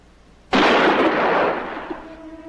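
A single loud revolver gunshot in a horror film cracks sharply, then rings out and decays over about two seconds, with a faint tone lingering after.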